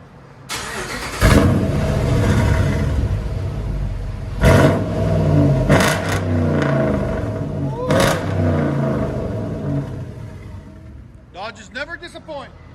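A RAM 5.7L HEMI with straight pipes, glass-pack muffler removed, rumbles from inside the cab with several sharp revs rising over a deep idle, while someone talks near the end.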